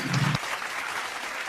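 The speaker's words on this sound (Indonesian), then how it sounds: "boleh beri tepuk tangan sekali lagi untuk para pemateri kita hari ini ya" Audience applause for the presenters closes a discussion session on an accounting presentation. It opens with a short burst alongside a voice, then a steady, moderately loud patter of many hands continues to the end.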